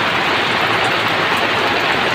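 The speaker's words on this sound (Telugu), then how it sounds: "ఇదిగోండి బాగా కొడుతుందండి వర్షం అయితే." Heavy rain pours down steadily in a village during outdoor cooking, a dense, loud, unbroken roar of drops with no voices.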